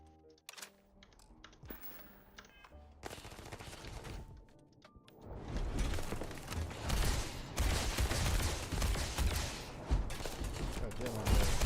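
Laser rifle firing in Starfield, rapid bursts of shots densely packed in the second half after sparser clicks and blasts earlier, loud and close, with a voice speaking at times.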